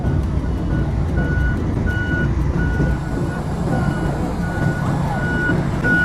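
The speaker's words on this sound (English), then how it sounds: "This is the snow removal vehicle." Reversing beeps from a snow removal truck in Antarctica repeat in a steady, evenly spaced series over a loud, constant engine rumble nearby, with no talk.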